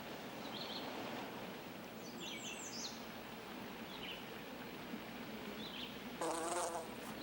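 Insects buzz steadily around sapsucker holes oozing sweet sap on an alder tree, a close, continuous drone with brief buzzy passes and a few bird calls near the end.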